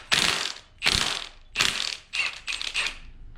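A ratchet wrench loosening the camshaft bolt on a 2006 Mustang 4.0 V6 engine, five distinct bursts of rapid clicking separated by short pauses, close and clear.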